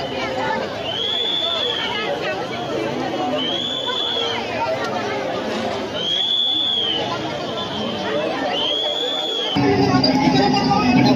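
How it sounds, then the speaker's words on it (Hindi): Dense crowd babble fills the Prem Mandir temple grounds in Vrindavan during Janmashtami, a steady wash of many voices with a repeating high tonal sweep cutting through every couple of seconds. "यहाँ बहुत बहुत बहुत भीड़ है"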